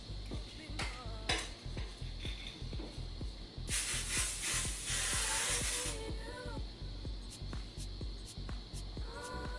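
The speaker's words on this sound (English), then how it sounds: "I'm just gonna hairspray it." Hairspray sprayed onto curled hair, a near, steady hiss lasting about two seconds amid light handling sounds and a faint rhythmic ticking.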